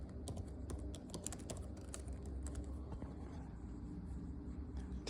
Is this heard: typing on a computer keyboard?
yes